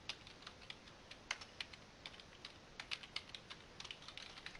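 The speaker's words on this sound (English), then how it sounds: "You have to type it exact" A table name is typed on a computer keyboard as a quick, irregular run of light key clicks over faint background hiss, close and quiet with no talking.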